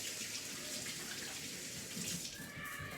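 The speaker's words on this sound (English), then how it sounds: "Wash my hands." Hands being washed under a running kitchen tap, a steady close splash of water flowing without pause, with no talking.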